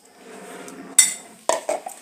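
A spoon stirs carrots and onions in a bowl while tamarind sauce is being made, giving a soft scrape followed by a few sharp metallic clinks against the dish.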